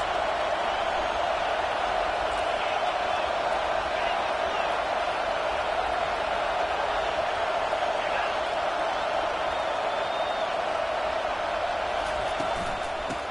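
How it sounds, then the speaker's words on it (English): A football stadium crowd roars steadily as the defense is backed up on first and goal, a dense, continuous wall of cheering that holds at even loudness throughout. "the crowd's giving them some juice"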